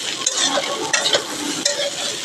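Rice frying in a pan, a loud, continuous sizzle close by with quick stirring scrapes and clatters breaking through at intervals.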